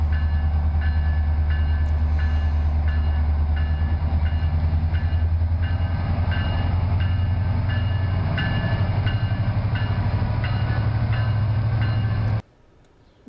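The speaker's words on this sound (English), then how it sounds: "Passing with Amtrak." Amtrak passenger train passing at Oceanside, heard as a loud, steady rumble with rhythmic clickety-clack of wheels that runs about twelve seconds, then cuts off abruptly.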